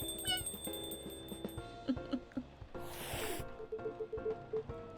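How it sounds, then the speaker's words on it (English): A local cat in the game Coffee Talk gives a few short meows among quiet background music and a brief whooshing sound effect. "If I'm not mistaken, this is a local cat."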